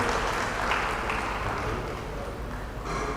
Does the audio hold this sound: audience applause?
yes